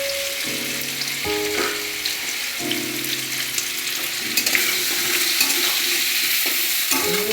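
Pumpkin curry fries in a pan while a spoon stirs it, a constant loud sizzle under repeated scraping strokes. Faint tonal hums come and go in the background.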